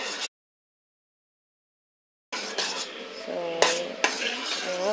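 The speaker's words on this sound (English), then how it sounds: "just keep stirring it" Utensil scraping and clinking in a pan of boiling marshmallow fudge mixture, with steady bubbling and stirring noise and a few sharper metallic knocks, broken by a two-second silence near the start.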